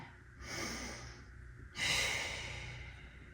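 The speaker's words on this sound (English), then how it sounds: "Take an inhale, and then exhale" Two deep breaths during a Pilates mat stretch, a long airy inhale followed by a stronger, louder exhale, close and unaccompanied by talk.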